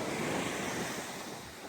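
Ocean surf washing onto a beach, a steady broad roar of breaking waves mixed with wind buffeting the microphone, loud and continuous without any voices.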